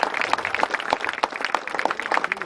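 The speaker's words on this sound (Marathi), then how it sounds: "सर्वांनी जोरदार टाळ्या झाल्या पाहिजे" Clapping from the audience at the opening ceremony of a village cricket premier league, a dense, sustained burst of many hands close by.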